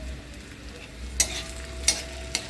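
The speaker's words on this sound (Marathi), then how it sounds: "कांदा भाजून घेऊया आपला कांदा भाजून येतो" Onion fries in a pan for matki usal, a steady close sizzle broken by three sharp scraping stirs of the spatula.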